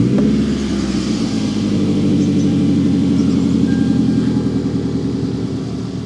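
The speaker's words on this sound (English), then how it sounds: "We'll go ahead and start the vehicle again and see if it remains running." A 2003 Toyota Camry 2.4L four-cylinder engine runs steadily after starting, giving a loud, even, rumbling idle close by with a rapid rhythmic pulse and no voices.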